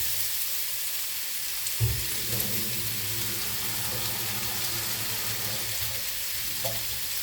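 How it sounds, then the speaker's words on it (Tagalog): Water poured into a hot pan of cooking food, turning a steady frying sizzle into bubbling and hissing, with a few faint clinks and stirring sounds nearby. "Lagyan natin ang ating tubig."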